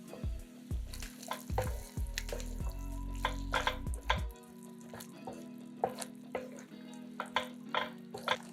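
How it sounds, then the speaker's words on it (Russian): A spoon stirs sour cream and flour in a hot frying pan, giving soft repeated scrapes and a light sizzle under steady background music. "В сковороду добавляем 100 мл сметаны. И насыпаем пол столовой ложки муки, чтобы сметана не расслоилась. Все перемешиваем."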